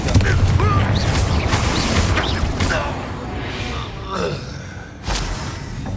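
A Confringo fire blast spell cast in the video game Hogwarts Legacy, heard as loud whooshing, crackling blasts with mechanical creaks and a fresh burst near the end.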